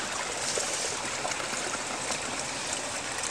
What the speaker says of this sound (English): It's raining, and we're by the flood thing, and there's a lot of water in it.